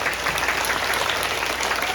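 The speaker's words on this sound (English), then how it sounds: "Round of applause for that." Audience applause at a Veterans Day celebration on Siesta Key, a steady, dense wash of many hands clapping at close range throughout, with no talk over it.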